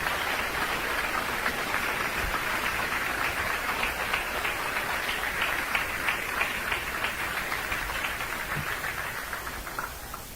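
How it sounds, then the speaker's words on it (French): Sustained applause from an audience at a Christian church gathering welcoming a lecturer, a dense, steady patter of many hands clapping that fills the whole stretch at an even level with no pauses. "Alors, applaudis, conférencier."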